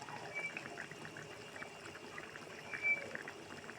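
A pot of fish curry simmers on the stove with a soft, continuous bubbling and faint hiss, low and close, with one slightly louder burble near the end.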